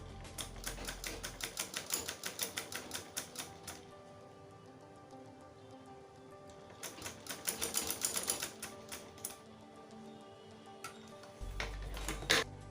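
Sewing machine stitching a hem on a flared circle skirt, a fast rhythmic needle chatter running in two bursts with a pause between, close and fairly soft, with a low motor hum toward the end.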